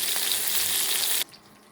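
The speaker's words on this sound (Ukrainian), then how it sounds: "так рибку обсмажуємо з обох боків." Pangasius fish fillets sizzle in a frying pan, a loud steady crackle up close that abruptly cuts off, leaving only faint low residue.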